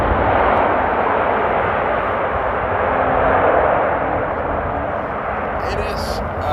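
Jet airliner roaring loudly through thrust-reverser deployment after touchdown at Amsterdam Airport in windy weather, a broad sustained rush that swells and then slowly eases.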